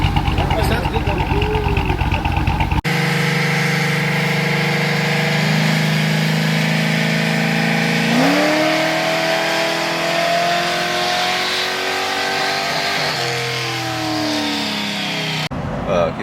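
Cammed Chevrolet Suburban V8 with a bad lifter tick, loud and close, idling with a choppy lope, then revving up and settling back down, with people talking over it.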